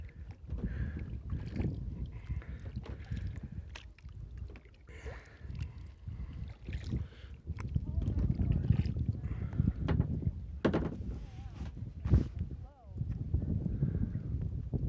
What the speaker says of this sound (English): I'm now one hand paddling